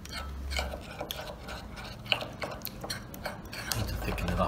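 A spoon stirs and scrapes in a bowl, mixing tahini with recently boiled water into a paste, making soft irregular clinks and scrapes close by, with a little speech in the background.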